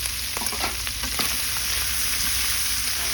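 Bitter gourd and tomato fry in a pan while being stirred, a steady loud sizzle with scraping and clacking stir strokes near the start, continuing alone without talk.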